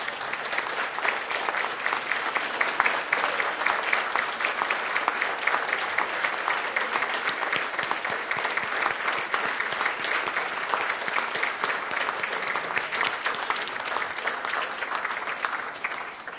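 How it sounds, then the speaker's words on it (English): A standing audience at an economic award dinner gives honorees a long, full round of applause, steady dense clapping that holds throughout and tapers slightly at the very end. "let's give them a round of applause."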